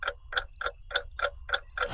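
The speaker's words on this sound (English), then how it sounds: "That sounds like the clock at the glass slipper ball." A clock ticks at the glass slipper ball in a steady run of seven crisp, evenly spaced ticks, close and fairly loud with nothing else over it.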